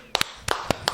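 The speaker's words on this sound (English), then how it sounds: "Round of applause." A small round of applause: a handful of sharp, close hand claps spaced irregularly over about a second.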